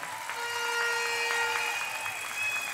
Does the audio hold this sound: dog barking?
no